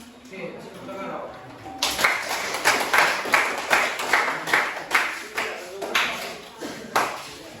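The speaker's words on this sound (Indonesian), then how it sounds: "kasih tepuk tangan" Rhythmic hand clapping from a classroom audience during a teaching practice session, a steady series of sharp claps following a spoken cue.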